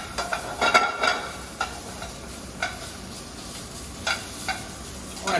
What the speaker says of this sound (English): I will saute that kielbasa.